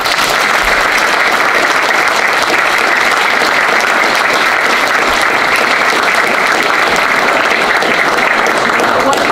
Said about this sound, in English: So let's give them a big round.